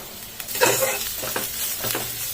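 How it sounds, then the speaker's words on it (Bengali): Spice masala with turmeric and chilli powder frying in a pan for raw jackfruit fritters, a continuous close sizzle with a few scraping stirs. "ভালো করে মশলাটি ভেজে নেবেন।"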